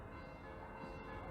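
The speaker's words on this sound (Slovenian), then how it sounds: "Zvon nas tudi spominja, nas vabi k molitvi." A church bell rings at a cemetery during an evening remembrance prayer. The steady, humming tone sounds faint and distant and stays even throughout the short stretch.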